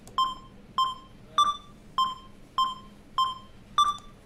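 Sharp electronic metronome beeps in FL Studio tick at a steady tempo, seven evenly spaced pulses, some slightly higher-pitched as accents, clear and close against quiet.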